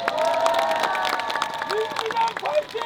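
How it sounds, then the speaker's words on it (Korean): A large outdoor political rally crowd in Seongnam cheers and applauds, a dense sustained roar with whistles, while an amplified voice rises over it toward the end. "박수 한번 주세요"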